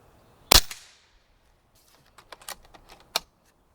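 A Walther Reign air rifle fires one sharp, loud shot at a target that rings out and decays, followed by faint clicking and handling noises and a second smaller crack.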